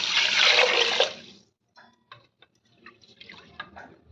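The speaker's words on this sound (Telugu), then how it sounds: "ఇప్పుడు వాటర్ వేసుకుందాం." Water is poured into a pot of washed rice for curd rice, a loud gush for about a second, followed by faint drips and light trickles.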